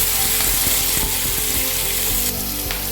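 Small onions and carrots sauté in a hot pan for carrot chutney, a loud continuous sizzle with scraping spatula strokes and clicks of stirring throughout.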